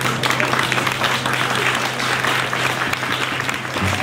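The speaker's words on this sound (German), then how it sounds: "Bitte einen dicke großen Applaus" Full, continuous applause from a crowd gathered outdoors in a public square for a peace banquet, loud and close throughout, with a low steady hum beneath it.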